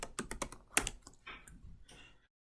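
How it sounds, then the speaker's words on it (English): Quick bursts of typing on a computer keyboard, a rapid cluster of sharp clicks followed by a few scattered keystrokes that trail off into silence, close and clear. "let's type in PyCharm"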